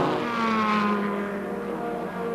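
Formula Ford 2000 racing cars at Brands Hatch in 1983 roar past with a loud, sustained engine drone that shifts pitch as they speed by, with no talk over it.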